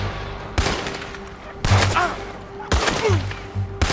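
Gunshots in Red Dead Redemption 2 ring out as four sharp, loud cracks spaced about a second apart, with faint talk between them.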